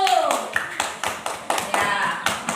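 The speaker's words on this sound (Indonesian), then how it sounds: "tepuk tangan untuk kelompok 1" Classroom applause for a group of students, a short burst of scattered hand claps in an uneven rhythm with voices mixed in.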